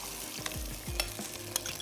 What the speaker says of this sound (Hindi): इसमें अब हम ऐड कर देते हैं दही 1 कप। ये चला गया इसमें दही।